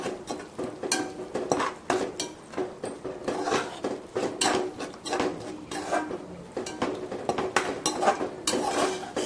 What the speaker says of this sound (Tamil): கர்ட் ஆட் பண்ணி நல்லா மிக்ஸ் பண்ணிடுங்க